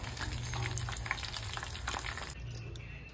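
Chillies fry in hot oil in a pan after pakoda, a steady close sizzle and crackle that thins out toward the end.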